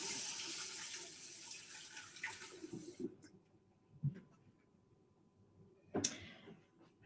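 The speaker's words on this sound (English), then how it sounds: "And wash my hands again." A kitchen sink tap runs steadily for about three seconds while hands are washed, then shuts off, leaving quiet broken by a couple of soft knocks and a sharp clunk.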